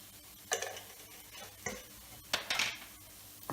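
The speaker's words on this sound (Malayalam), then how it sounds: "ഇതെല്ലാം നന്നായി മിക്സ് ചെയ്യാം." Curry spices, chilli powder and turmeric, stirred and mixed in a pan for beef and raw banana curry, with four or five separate quiet scraping strokes spaced across a few seconds.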